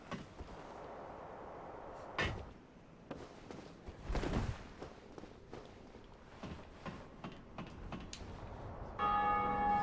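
Bell of Awakening tolling in Dark Souls Remastered, a few deep resonant strikes ringing out over game ambience, with a brighter tonal chime swelling near the end.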